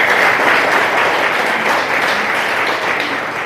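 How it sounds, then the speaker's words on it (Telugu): A ceremony audience applauds the elders at the close of a five-day training course held at an agricultural social science college, with dense, steady clapping that stays loud throughout and fades slightly toward the end. "మానవతా పెద్దలందరికీ క్లాప్స్ పెట్టాలి"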